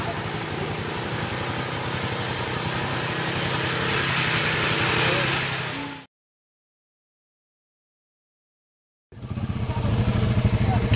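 A quad bike engine on the Tongariro trails in New Zealand revs hard and steadily on the throttle, loud and close, then cuts to silence for several seconds before the engine roar returns.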